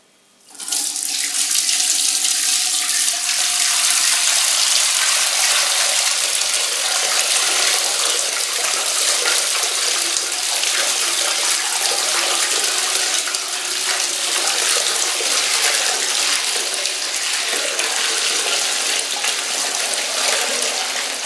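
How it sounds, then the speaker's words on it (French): Homemade beer wort poured from one vessel into another during home brewing, a steady loud gushing stream of liquid that starts abruptly and runs continuously, close and alone without talk. "Donc maintenant hop, on va transvaser ça tranquillement."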